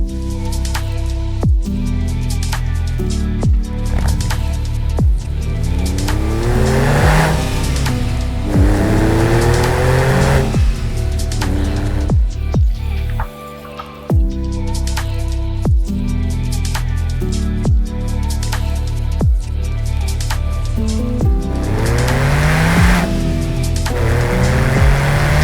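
Custom car driving, with an engine revving up and shifting through gears in repeated rising sweeps, loud and close throughout, with a brief dip near the middle before the climbing engine tone resumes.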